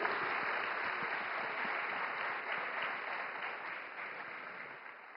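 An event audience breaks into a dense, steady wash of clapping that tapers off slightly toward the end, heard somewhat muffled and at a distance.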